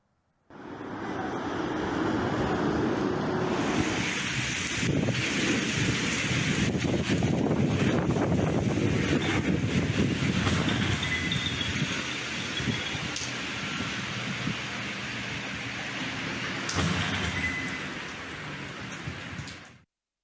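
Strong gusts of wind during a storm roar and buffet the microphone for about twenty seconds, loud and continuous, with rain-like hiss and occasional rattling bursts.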